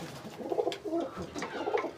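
A pigeon coos close by in a soft, throaty series of low rolling notes, repeated in quick succession with no voices over it.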